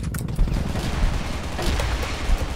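Rapid gunfire from an M4A1 Dual Flower Power rifle in the shooter game Crossfire, dense continuous bursts of shots crackling loudly across the whole stretch with no voices.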